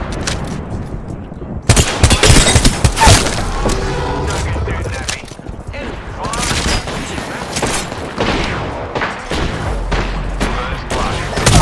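A frag grenade is launched and bursts amid heavy in-game gunfire, loud sharp cracks and thuds clustered in rapid volleys, with chatter mixed in throughout.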